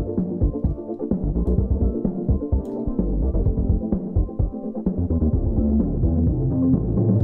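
Future funk bass line stripped of its high and mid frequencies, a deep, muffled throbbing low-end pattern pulsing rhythmically and steadily on its own.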